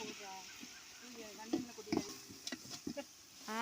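Mint sautéing in a pan for chicken biryani, with soft sizzling and intermittent stirring scrapes and clinks close by, while a faint voice talks in the background.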